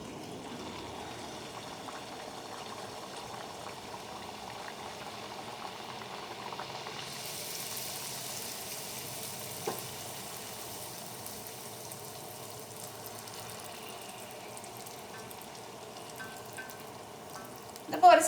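Puri dough rounds frying in hot oil in a home kitchen, a soft, steady bubbling sizzle that continues evenly throughout, with a small clatter near the end.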